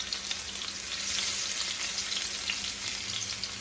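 Oxtail searing in a hot pan, a loud steady sizzle and crackle close by, continuous throughout with no talk.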